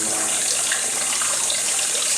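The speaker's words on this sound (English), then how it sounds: "I just get to go sit here by the fountain and listen to the water" An outdoor fountain runs in a steady, even rush of splashing water that never changes and fills the whole stretch, with no voices.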